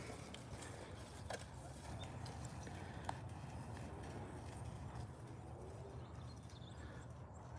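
Horses walk along, their hooves clip-clopping in a steady, fairly quiet rhythm beneath constant outdoor background noise, with occasional bird sounds and no talking.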